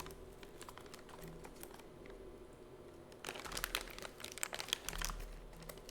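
A resealable plastic filament bag for a 3D printer crinkles and rustles close by, faint at first and then growing into louder bursts of crackling plastic.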